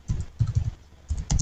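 Keys on a computer keyboard are pressed to save a document in Microsoft Word, giving a few soft, close clicks in two small clusters with a quiet pause between them.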